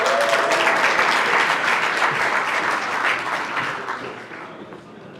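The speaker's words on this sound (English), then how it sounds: "Please give a warm round of applause for Ms. Da Silva." Sustained audience applause at a business networking event, a dense wash of clapping from a large crowd that stays loud and gradually tapers off toward the end.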